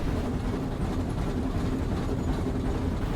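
Train running in ambient background, a continuous dense low rumble of rail travel, steady and moderately loud with no talk over it.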